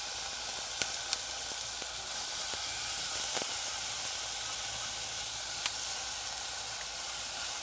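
Ingredients for ginataang palaka, frog in coconut milk, sautéing in a pan, with a steady close sizzle and hiss throughout and a few faint taps of a utensil.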